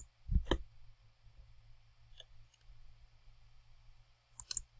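A quiet computer mouse click, a couple of sharp close ticks near the start and another pair near the end over faint background hum.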